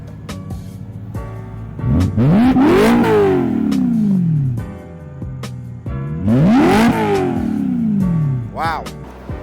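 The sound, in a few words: car engine revving with no muffler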